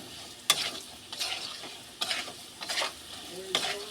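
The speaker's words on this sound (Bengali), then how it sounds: "জিরে গুঁড়ো দিয়ে একটু ভেজে নেবো" Ground cumin and chilli powder frying in oil for a tilapia curry, with a soft sizzle broken by several sharp scraping stirs of a spatula against the pan at irregular intervals, close and without speech.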